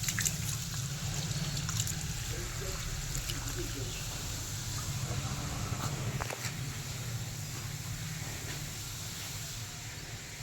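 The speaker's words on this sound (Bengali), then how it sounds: "জলটা ঢেলে গেল।" Water pours and drains steadily out of a container holding singi catfish, a continuous broad hissing rush at close range that runs unbroken for the whole stretch.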